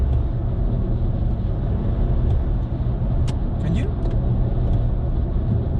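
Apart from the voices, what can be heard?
turbo of a 2020 VW Polo accelerating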